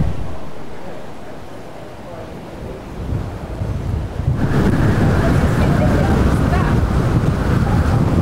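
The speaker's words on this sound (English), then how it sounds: "Do you know this kind of wind" Strong wind buffets outdoors in Liverpool, rising to a loud, roaring rumble against the microphone after a quieter gusty start, with surf-like noise filling the whole stretch.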